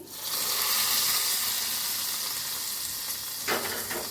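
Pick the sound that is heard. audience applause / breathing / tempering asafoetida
tempering asafoetida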